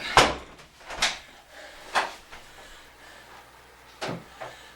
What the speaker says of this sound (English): drop the pins in.